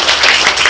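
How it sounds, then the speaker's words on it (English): A short, loud burst of dense applause from an audience at a home healthcare talk, heard close and without speech. "Big round of applause."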